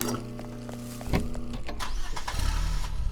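A car's engine runs as it is driven in the horror game Cleaning Redville, starting from a low idle hum and rising into a louder, steady rumble after a brief clunk.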